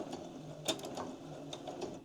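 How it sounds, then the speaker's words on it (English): A sewing machine runs steadily along the edge of fabric while stitching a slide shape for a storybook page, with a soft, close mechanical whir and light clatter for a couple of seconds and no talk. "I'm just going to sew close to the edge"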